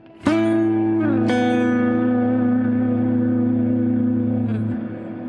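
A sustained electric guitar phrase with a slide into held, ringing notes, washed in delay and reverb that trail off after the notes stop.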